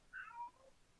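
A cat gives a single short, faint meow in a quiet room, heard alone in a brief burst with no one speaking over it.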